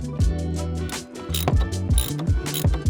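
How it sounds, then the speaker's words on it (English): A ratchet wrench removes T50 bolts from the back of a BMW seat, producing rapid, loud clicking pawl bursts in quick repeated strokes, close up with no speech. "and remove the 2 T50 bolts from the back."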